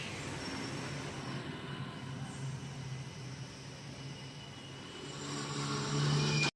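Steady low rumble and rattle from inside the moving 12745 Manuguru Superfast Express, continuous and close, swelling louder toward the end before cutting off, with no talk.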